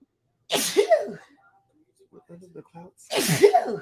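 Two loud, close sneezes, one at the start and one near the end, with some quiet murmuring in between.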